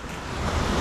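Rough, wild ocean waves at sea give a continuous broad wash of surf and wind, loud and close and unbroken, with no voices.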